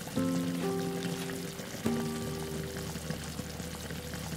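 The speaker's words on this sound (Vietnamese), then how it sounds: "Sau đó thì mình cho vào 1 lít nước. Nhớ là mình dùng nước nóng hoặc là nước sôi ha." Hot water is poured into a pot of Vietnamese beef stew (bò kho), a continuous close splashing stream with a resonant ringing tone that starts strong, renews once midway, then settles into a steadier flow.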